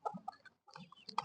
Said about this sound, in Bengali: ভুট্টা খাচ্ছে আমাদের মুরগিগুলি।